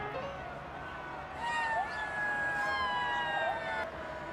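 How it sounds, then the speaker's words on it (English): A cat meows in a few drawn-out, wavering calls that rise and fall over a steady background hiss, moderately loud and close, with no talking. "Cat."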